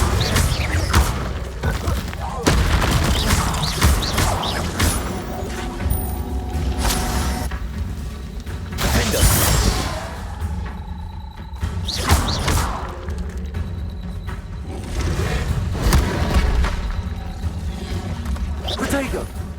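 Incendio fire spell in Hogwarts Legacy combat, heard as heavy thumps and crashing blasts spaced a few seconds apart, loud and close, amid a busy game soundscape with a voice speaking in places.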